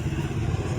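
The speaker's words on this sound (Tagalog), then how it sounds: "Ito mga motor nila siguro ito, no?" A motorcycle engine rumbles nearby in a brief, steady low growl with some mechanical clatter, with no voices over it.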